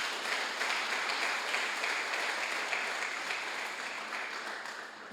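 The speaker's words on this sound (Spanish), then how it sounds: "¿Quiere darle un aplauso al Señor?" A church congregation applauds the Lord during a Bible class, with sustained, fairly loud clapping that fades gradually toward the end.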